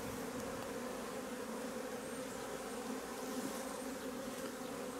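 Honeybees hum steadily around a beehive where only a few bees are present, a continuous close drone with no voices.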